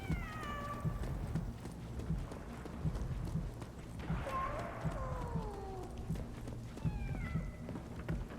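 A cat meows in the video game 11-11 Memories Retold, a few rising and falling cries alone, with a longer mewing call in the middle over a steady rhythmic background thudding.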